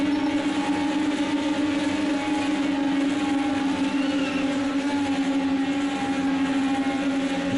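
IndyCar race cars in a racing video game at Texas roar steadily as a pack, a continuous droning engine whine holding pitch throughout without a break, moderately loud with no commentary over it.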